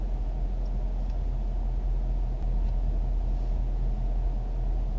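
A 2017 Ford Mustang GT with the Performance Pack cruising down a road, heard from inside as a steady low engine and road rumble that holds an even level throughout with no voices.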